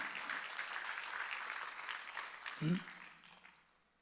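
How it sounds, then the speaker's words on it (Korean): A church congregation's applause during a sermon, a dense patter of clapping that fades out, with a brief low voice near the end. "박수쳐."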